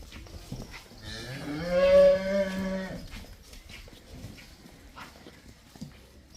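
A loud, drawn-out moo from a buffalo calf rises and falls close by, followed by quieter farmyard rustling and faint background noises.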